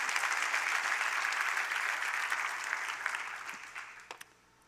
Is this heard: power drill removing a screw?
no